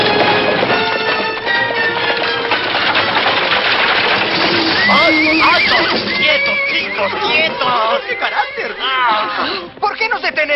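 Horses neigh and whinny repeatedly amid hoofbeats and galloping in a chase scene from a Spanish-dubbed comedy film, with shouting voices over them.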